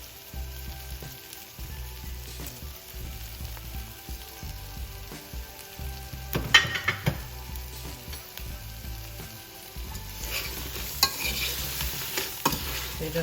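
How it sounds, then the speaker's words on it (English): Salt and pepper shrimp stirred in a hot pan with salt and black pepper, a steady sizzle broken by scraping stir strokes and louder clattering bursts near the middle and end. "You just want to stir it and get it all in there."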